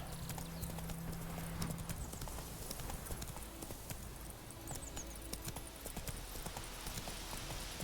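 Horse hooves clip-clopping at a quick pace in the Witcher 3 video game, a steady rhythmic clatter over ambient game sound, fairly close and continuous.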